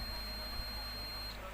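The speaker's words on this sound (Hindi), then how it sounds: "तो यहाँ पर बीप का आवाज़ आ रहा है," Testing a TV power supply board, a multimeter on continuity gives a steady, high, thin beep that holds for well over a second before cutting off, over a constant low hum.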